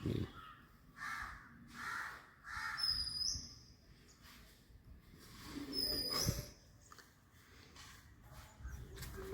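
A bird arrives to feed its chick at a nest built on a work site, with crow-like calls and chirps over a busy background of rustling and faint voices, some calls loud and close.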